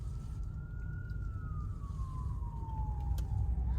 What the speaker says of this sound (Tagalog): American ambulance.